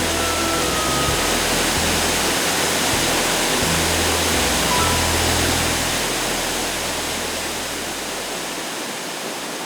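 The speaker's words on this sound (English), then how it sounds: "Upon reaching the highest level of Neidong Waterfall, you can admire this superb waterfall at close quarters from the viewing pavilion." Neidong Waterfall in Neidong National Forest Recreation Area, heard close up from a viewing pavilion: a steady, loud, broadband roar of falling water that continues unbroken throughout, easing slightly near the end.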